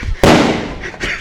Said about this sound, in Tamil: அம்மா என்ன சவுண்ட்ரா சாமி, காது கிளியிற அளவுக்கு வெடிக்குது.